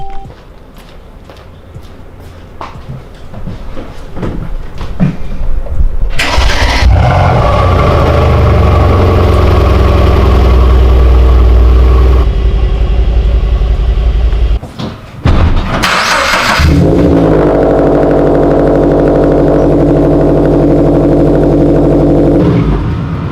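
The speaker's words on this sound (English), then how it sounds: "You guys will get to hear the cold starts of the C63 and my car." A Mercedes C63 and a widebody Scion FRS cold start one after the other, each engine cranking and catching with a loud roar, then settling into a steady, heavy idle close by, with a brief pause between the two cars.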